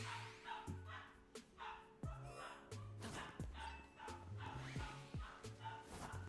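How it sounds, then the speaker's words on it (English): A dog barks in repeated bursts at close range, several short yips and bow-wows spread across the few seconds, with a faint whimpering edge between them. "That's a dog."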